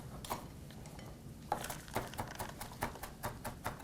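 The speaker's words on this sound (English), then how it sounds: "I'm going to chop up a little bit of parsley" A knife chopping fresh parsley on a board in a kitchen, a quiet run of sharp rhythmic taps, about a dozen in quick succession.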